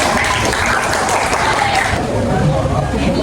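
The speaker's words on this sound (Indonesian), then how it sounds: "Tepuk tangan untuk kelompok satu" Applause for group one at a classroom group discussion, dense steady clapping from a room full of people lasting the whole stretch, with crowd murmur mixed in.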